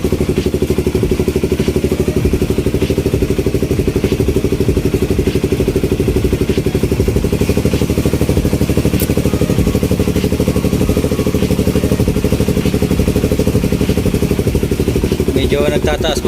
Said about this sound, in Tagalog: Medyo nagtataas baba pa yung ating idle.